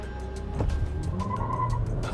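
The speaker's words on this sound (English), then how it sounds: "A little bit of wheel spin, but off we are in the XC40." A Volvo XC40 mild-hybrid SUV launches hard from a standstill, engine rising steadily with a brief scrabble of wheel spin, close and loud throughout.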